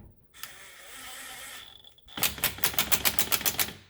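An impact gun tightens a bolt on the lower control arm of a 2012 Mazda CX-9, a short whir followed by a rapid run of loud hammering bursts close up.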